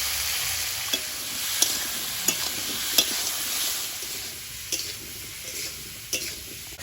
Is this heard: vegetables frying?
yes